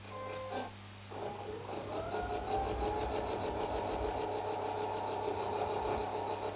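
A sewing machine stitching quilt strips with the fabric underneath gives a steady, fairly quiet mechanical whir. It starts after a brief stop-start near the beginning and then runs evenly, with no talk.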